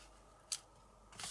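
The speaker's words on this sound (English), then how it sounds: "just using our scissors, we're just going to roughly cut around" Scissors cutting roughly around a card tag during papercraft, two quiet snips about half a second apart with the second longer and rasping, with no talk.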